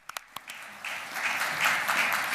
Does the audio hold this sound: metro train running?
no